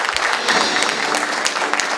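An audience claps steadily and fairly loudly at the launch ceremony of a care workers' association's Gwangju branch, a dense, continuous applause held over two seconds.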